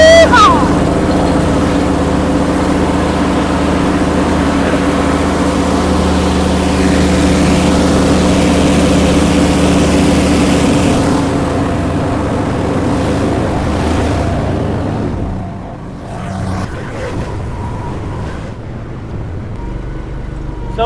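Mini skid steers race flat out, one powered by a Honda gas engine, a loud sustained engine drone with steady harmonic whine that fades away toward the end, with some voices underneath.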